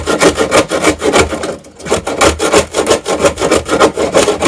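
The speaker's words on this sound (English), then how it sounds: "Scrape all that away." Glued-on polystyrene is scraped off the inside of an internal wooden door in quick, rhythmic back-and-forth strokes, loud and close, with one brief pause partway through and no talking.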